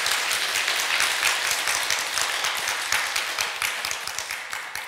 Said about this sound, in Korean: 다른 데가 박수치고 그러던데.